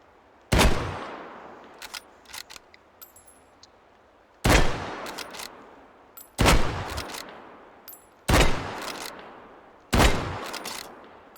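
Five loud gunshots from a Carcano M91 bolt-action rifle in the Hot Dogs, Horseshoes and Hand Grenades game, spaced a couple of seconds apart, each a sharp crack with a ringing tail, with bolt clicks between shots and no talk.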